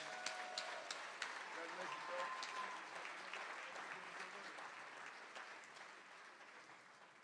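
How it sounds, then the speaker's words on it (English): Audience applause for award winners at the 2023 Mayor's Business Luncheon, a steady wash of many hands clapping that fades slightly toward the end, with a few voices murmuring underneath. "One big round of applause, please."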